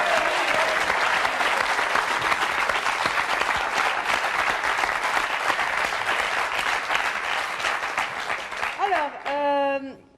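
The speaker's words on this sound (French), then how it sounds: "On peut applaudir Jacqueline hein," A television studio audience breaks into dense, sustained applause for about nine seconds before it thins out, and a voice speaks over the final moments.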